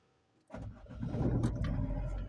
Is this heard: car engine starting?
yes